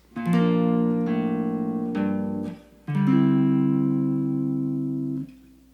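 An acoustic guitar strums a slow chord progression, each chord ringing out before the next, with four strums in all.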